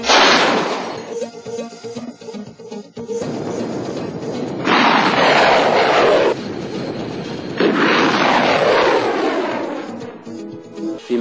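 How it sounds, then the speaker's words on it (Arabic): Live anti-aircraft guns firing real ammunition at an air-defence training range, several heavy blasts each followed by long rolling echoes and rumble, loud and fairly near, with bursts spaced a few seconds apart. "ونحن اليوم بصدد إجراء رمي حقيقي بالذخيرة الحقيقية"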